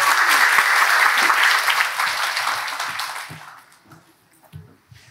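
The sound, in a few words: congregation applause welcoming a pastor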